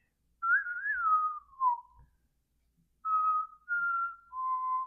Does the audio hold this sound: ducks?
no